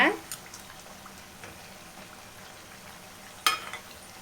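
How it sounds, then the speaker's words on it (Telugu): Lentil chips fry in oil over a low flame, a faint steady sizzle broken by a couple of brief, sharp clinks. "వీటిని లో ఫ్లేమ్లో పెట్టి ఫ్రై చేసుకోవాలి"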